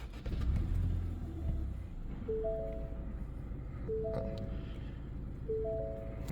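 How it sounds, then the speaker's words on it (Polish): A 2016 Ford Mondeo 1.5 petrol engine rumbles low and steady after a heavier start, while a dashboard chime sounds three short repeated bursts of tones. "teraz odpalimy pokażemy jak pracuje silniczek"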